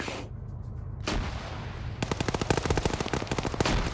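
Rapid automatic gunfire from a squad fight in a competitive shooter match, a single sharp shot early, then dense bursts of close, loud rounds crackling through the latter half.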